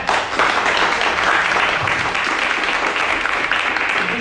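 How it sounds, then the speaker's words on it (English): An audience gives a big round of applause for speaker Sam after a talk on global citizenship, a loud, continuous burst of many hands clapping that holds steady throughout. "Ladies and gentlemen, big round of applause for Sam."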